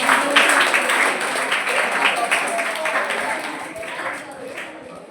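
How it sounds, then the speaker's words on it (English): Seminar attendees applaud themselves at a career and mobile awareness session, a steady round of clapping held at an even level for several seconds, with some voices mixed in. "Please give a big round of applause to yourself."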